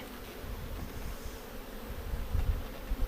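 Many bees buzz in a soft, continuous drone close by during a post-swarm hive inspection, with low rustling thumps underneath.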